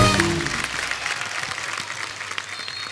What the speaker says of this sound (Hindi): एक बार अक्षय बाजी के लिए जोरदार तालियां